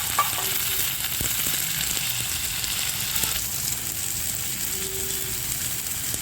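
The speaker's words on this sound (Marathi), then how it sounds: "कांदा थोडा परतलेला आहे आता मी एक मोठा टोमॅटो टाकत आहे" A large tomato hits onions that are already frying in a pan, raising a loud, steady sizzle that holds at close range throughout, with faint stirring noises and no speech.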